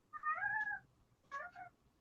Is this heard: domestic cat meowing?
yes